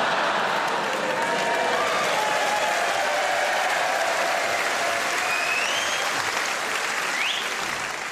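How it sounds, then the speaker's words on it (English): Loud, sustained applause from a live comedy theatre audience, dense and continuous, with a few whistles cutting through near the end. "just a round of applause from your Bristol cider drinking friend."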